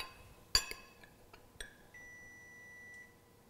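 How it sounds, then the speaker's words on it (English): An oven timer for baking biscuits gives a steady, thin electronic tone lasting about a second, heard after a few sharp clinks of kitchen glass or metal. "I think that's the timer for the biscuits."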